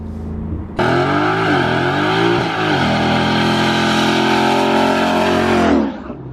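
A Ford Mustang GT engine with an aftermarket exhaust revs loudly. It bursts up, holds a roaring, harmonically rich drone for several seconds, then cuts off abruptly, close and alone.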